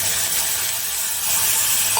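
Water poured over stuffed brinjals in a pressure cooker sets off a steady, close hiss and sizzle that runs unbroken for about two seconds, with no voices.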